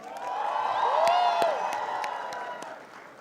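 A graduation ceremony audience gives a fairly soft round of applause that swells and fades over a few seconds, with scattered distinct claps and some tonal sounds or cheers mixed in.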